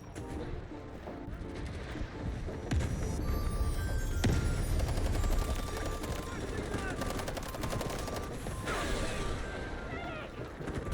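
Rapid automatic rifle fire in a first-person shooter video game with a QBZ assault rifle and sniper fire, bursts of gunshots and explosions running dense and loud throughout, with a voice talking over the action.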